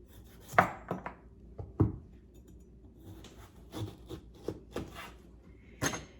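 Knife cutting through a squash on a cutting board, several sharp distinct chops and thunks at uneven intervals with quiet gaps between, close and fairly crisp.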